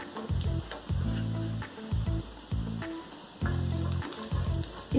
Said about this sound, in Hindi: प्याज को हमें थोड़ी सी लाल होने तक भूनना है।